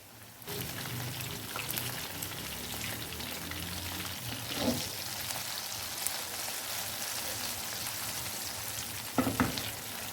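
Battered chicken popcorn fries in oil in a frying pan, giving a continuous close sizzle and crackle with a couple of brief stirring knocks.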